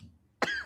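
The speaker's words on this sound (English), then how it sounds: "Sorry, I'm just going to cough." A single short, close cough from an adult, a sharp burst after a moment of quiet.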